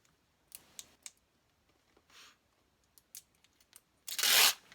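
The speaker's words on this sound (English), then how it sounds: "let me just take the sticker off" A sticker peels off a Penny board package, with a few light clicks and crinkles and then one short, loud tearing rip up close.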